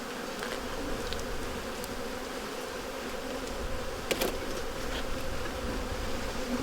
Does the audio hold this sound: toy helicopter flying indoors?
no